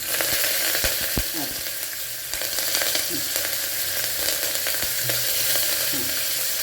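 Curry leaves sizzle and crackle in hot oil for a tempering, a steady frying hiss with scattered pops and a few sharp crackles, close and continuous.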